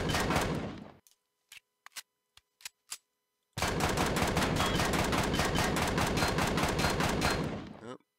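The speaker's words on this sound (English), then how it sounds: "So I'm going to shoot." Gunfire in the video game Empyrion - Galactic Survival: a long, loud burst of rapid automatic fire, then a handful of separate single shots, then another sustained rapid burst lasting several seconds.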